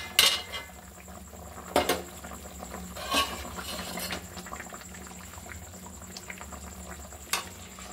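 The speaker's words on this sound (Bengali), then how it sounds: "এবার দেখুন ঢাকাটা খুলে নিচ্ছি।" Lid lifted off a pot of thin hilsa fish and potato curry, with a few sharp metallic clinks spaced apart over a soft bubbling simmer in a quiet kitchen.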